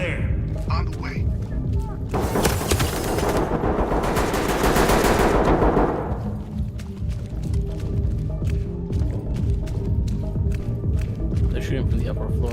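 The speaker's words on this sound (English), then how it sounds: "They're shooting from the upper floor." Gunfire in a GTA roleplay game, a loud dense automatic burst that rattles for several seconds, then sporadic single shots and clicks continue while voices talk over the action.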